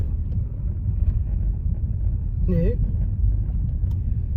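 A Jaguar S-Type saloon rumbles steadily from inside the cabin while under way, a low, even engine and road drone with a short spoken word partway through.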